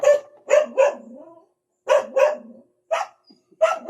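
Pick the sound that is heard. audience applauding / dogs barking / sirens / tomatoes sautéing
dogs barking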